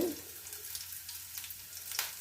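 Onions frying in a pan for fish curry, a steady soft sizzle close by with faint crackles throughout.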